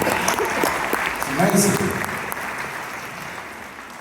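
Audience applause at the Jack Petchey Awards 2023 ceremony in the Charter Hall, moderate clapping that fades gradually, with a short spoken remark over it.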